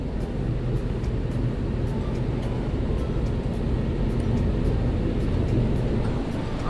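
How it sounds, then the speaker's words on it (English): A steady car engine idles close by at normal operating temperature after radiator and thermostat replacement, a continuous low rumble with no breaks or revving, holding an even level throughout. "sounds like the engine is coming to a normal operating temperature"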